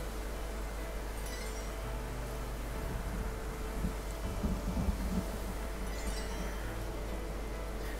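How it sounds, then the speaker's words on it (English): Steady rain with a low rumble of thunder swelling midway inside a video game, a constant broadband wash of storm noise that is moderately faint with no voices. "I love the sound of the storm"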